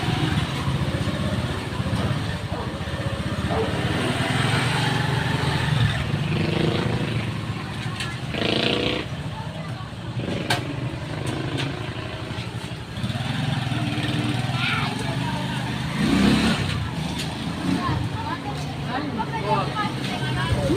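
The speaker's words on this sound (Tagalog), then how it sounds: "Daming mga sasakyan mga dumadaan mga katuda. Sunod-sunod." A stream of vehicles passing one after another on a road, a constant engine and tyre rumble that swells as each one goes by, with people talking throughout.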